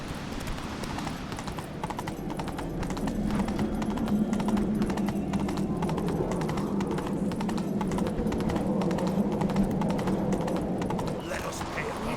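Roach the horse clip-clops steadily in The Witcher 3, with rapid, even hoofbeats running throughout under a voice and other game sounds.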